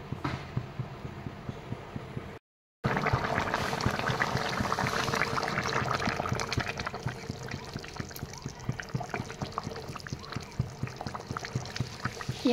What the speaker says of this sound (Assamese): এতিয়া ভালদৰে উতলিব দিম।